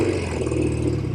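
A 1972 Norton 750 Commando Combat motorcycle engine revs in first gear, producing a loud, close, continuous mechanical drone with a throbbing low rumble and slight clatter, with no voices.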